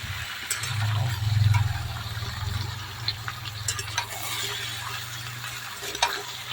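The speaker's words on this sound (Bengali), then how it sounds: "কেটে রাখা সবজিগুলো দিয়ে ভালো করে নেড়ে নেবো।" Chopped vegetables, including greens, are stirred in a frying pan after onions have been fried. There is a soft, continuous sizzle with light scraping and tapping from the stirring utensil, close and steady throughout.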